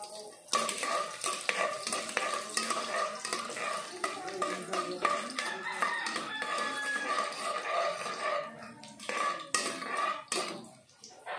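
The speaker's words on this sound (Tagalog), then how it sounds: "At isa-isa po natin igigisa ang ating mga ingredients. Ngayon po natin ang bawang." Garlic sautés in a pan for a sinigang na manok dish. A busy sizzle runs under repeated metal scraping and stirring against the pan, with clinks of utensils throughout.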